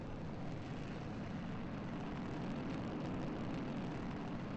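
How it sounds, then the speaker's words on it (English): A rocket engine in Kerbal Space Program gives a steady, low, rumbling roar that stays at an even level throughout, with no voices. "We have engine sounds."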